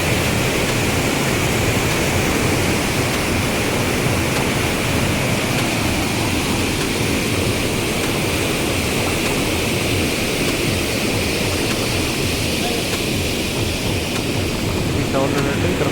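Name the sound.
water rushing through a reservoir sluice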